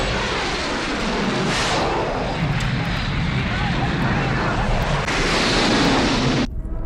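Film sound effect of a plane in a diving plunge: a loud, sustained roaring engine rush with a rising and falling whine that swells toward the end before cutting off abruptly.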